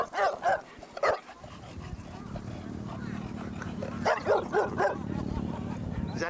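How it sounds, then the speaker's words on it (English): A dog barks in short bursts, a few at the start and a cluster later, over a steady background of people talking and clattering noise at a dog park in Laguna Beach. "Why is he barking at her?"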